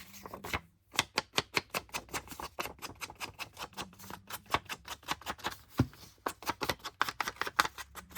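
Paper edges being inked with a blending tool in Scorched Timber distress ink, giving a rapid series of soft, close dabbing and scuffing taps in quick rhythmic bursts with brief pauses, no voice.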